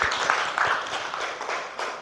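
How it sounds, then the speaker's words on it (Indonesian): Classmates clap briefly in a school classroom after a debate statement, a short burst of scattered hand claps that fades within two seconds. "Oke, tepuk tangan."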